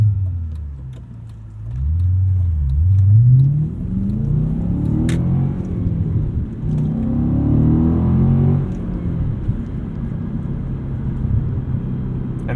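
A 2007 Audi RS4 with a stock clutch builds a deep, rumbling engine note through repeated rising revs as it accelerates on a test drive, heard close from inside the cabin with no one talking.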